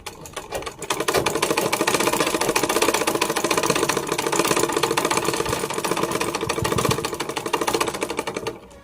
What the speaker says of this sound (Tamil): பொறுமையாக தையல் போடுங்க, அவசரம் கிடையாது.